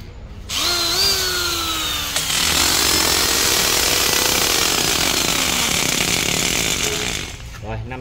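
A used Japanese 450W electric drill with variable speed, reverse and a hammer function runs loudly at close range, whining steadily for several seconds with slight shifts in pitch before it cuts off.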